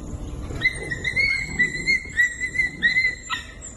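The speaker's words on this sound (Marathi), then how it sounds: "कणकवली शहरात सध्या जवळपास सर्वच ठिकाणी भटक्या कुत्र्यांचा वावर वाढलाय।" Stray dogs on the streets of Kankavli town, Maharashtra, whimper and yelp in a continuous high, whiny stream with repeated sharp yips, close by against a low rumble of traffic.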